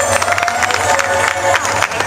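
An audience at a religious discourse during a state-level Manas festival in a village claps and cheers, a dense crowd texture filling the clip with bursts of hand claps.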